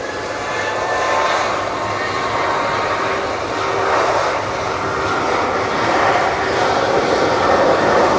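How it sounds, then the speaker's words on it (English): An EasyJet Airbus A319 from Faro on approach to Manchester gives a loud, continuous jet roar with a broad hiss and slight swells, steady throughout and not masked by speech. "we have the EasyJet from Faro, it's an A319"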